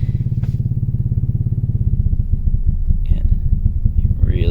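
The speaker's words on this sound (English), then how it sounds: "It's kind of having problems trying to idle and park." An Audi A6 engine with a faulty high-pressure fuel pump struggles to idle, giving a loud, close, steady low throbbing pulse that grows uneven and lumpy partway through, with a brief voice heard over it.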